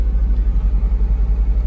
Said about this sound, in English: Beautiful rumble, as you'll hear out of that quadra port exhaust.